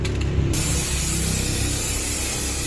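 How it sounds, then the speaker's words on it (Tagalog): Gray primer spray paint (Bosny) hisses in a steady, continuous blast onto the floor of a Toyota Avanza during interior detailing, close and fairly loud with no voices. "ang gagawin muna natin ay primer gray, Bosney paint, spray paint"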